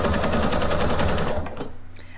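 A Pfaff sewing machine stitches a single ribbon stitch, its needle hammering in a fast, loud, steady rhythm close by for about a second and a half before it slows and stops.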